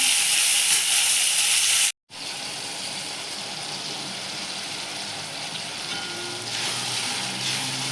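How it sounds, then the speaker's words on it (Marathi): Tomatoes frying in a pan with garlic and ginger for Marathi-style dal palak give a loud, steady, close sizzle, cut off by a brief silence before the hiss returns and swells slightly. "आपण टमाटर घालून घेऊया टमाटर चांगलं भाजून घेऊया"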